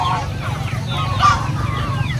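Chickens on a backyard poultry farm cluck and murmur close by in a busy, overlapping flock chatter, with short squawks rising over a steady low hum.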